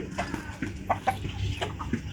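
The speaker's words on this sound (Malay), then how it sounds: "Cantiknya ayam ni." Chickens cluck in short, scattered bursts close by, with a few sharper calls mixed in and faint talk in the background.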